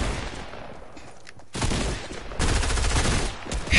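Heavy assault rifle gunfire in a video game comes in dense, loud bursts that surge twice and hold steady, with no talking over them.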